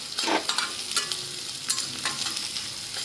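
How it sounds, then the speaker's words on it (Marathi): Sliced onion for a radish-leaf and aubergine dish frying and softening in a pan, a steady close sizzle with a few soft stirring scrapes. "कांदा चांगला ट्रान्सपरंट होईपर्यंत नरम होईपर्यंत शिजून द्यायचा"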